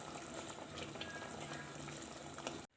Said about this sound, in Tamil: குருமா நல்லா கொதிச்சிடுச்சு